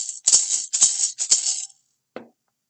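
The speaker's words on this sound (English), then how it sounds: "Right, the maraca was first." A maraca is shaken in four quick rattling bursts, close and clear with no talk, ending with a single short rattle after a pause.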